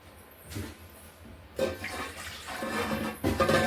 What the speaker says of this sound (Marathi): आता याच्यात थोडंसं पाणी घालून घेऊया आपण